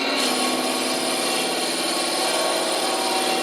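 A drill bores steadily into a stabilized wood ring blank, with a continuous bright whine and grinding that holds the same loud, even level throughout and no talking over it.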